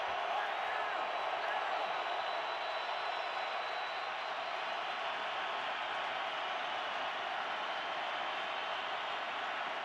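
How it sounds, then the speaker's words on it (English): A football stadium crowd roars at an NFL game between the Patriots and Cardinals, a steady, wide wash of noise that holds at an even, fairly distant level throughout. "with the crowd roaring"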